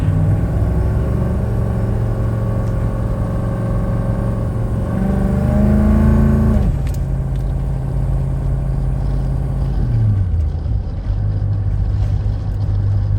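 1984 GMC Suburban K2500 with a Detroit diesel, driven on a street, steady low engine drone with rising pitch that drops as it shifts gears, then climbs again.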